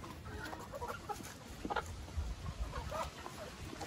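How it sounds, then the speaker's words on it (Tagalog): A mature Decal Brown heritage rooster gives soft, low clucks, faint and intermittent against quiet farmyard background noise, with no talking. "Ating Decal Brown na rooster, which is matured na."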